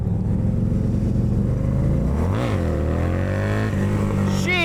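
A Harley-Davidson motorcycle revs hard and accelerates into a wheelie, its loud engine rising and falling in pitch through a quick surge, close and continuous with no talking.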